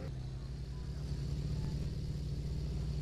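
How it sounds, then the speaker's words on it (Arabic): A car engine in a car dealer simulator video game hums in a steady low rumble throughout, constant and moderately loud, with no change in pitch. "والله صوت السياره يجيب الهم"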